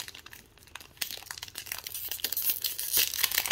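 A foil Digimon booster pack wrapper is torn open up close, a rough crinkling and ripping that starts quiet and grows louder and harsher toward the end, with no speech.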